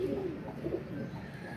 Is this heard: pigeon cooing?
yes